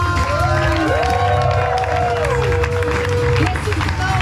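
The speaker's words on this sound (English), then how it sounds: "Let's give them all a round of applause." Crowd at a contestant event cheering and clapping loudly and continuously, with whoops and shouted voices sliding over dense applause throughout.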